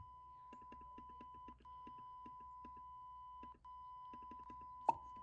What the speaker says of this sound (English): Low air alarm.